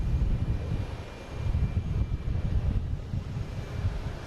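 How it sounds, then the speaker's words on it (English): A Delta Airbus A321neo jet takes off at Boston Logan, heard as a distant, steady low roar mixed with gusting wind noise, with no voices. "Next taking off is Delta heading to San Francisco in A321 Neo."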